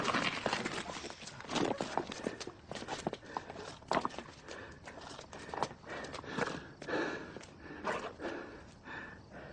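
A horse's hooves clip-clop in an irregular walking rhythm, close and fairly clear, with occasional snorts and shuffling between the steps.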